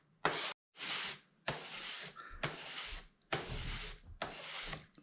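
Cabinet scraper drawn across the wooden surface of a serving tray in about six separate rasping strokes, each a bright close scrape with short pauses between, no talking.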